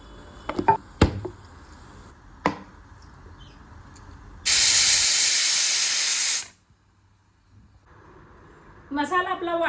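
A hot pressure cooker releases steam in a loud hiss lasting about two seconds, set between scattered kitchen clicks and knocks, with a brief voice near the end.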